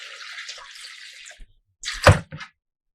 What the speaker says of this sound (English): Then I'm gonna add a little bit of water.